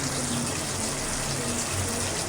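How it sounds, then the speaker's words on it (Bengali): Water poured into a pan of fish and cucumber curry, a loud, continuous rushing gush that stays steady from start to end. "এখন আমি পানি দিয়ে দেবো।"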